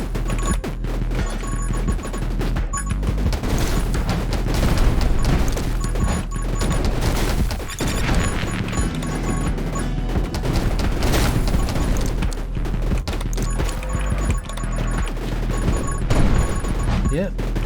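Grenade launcher explosions in the video game 20 Minutes Till Dawn pop and crash in dense, rapid succession, a constant barrage of blasts over a driving music track.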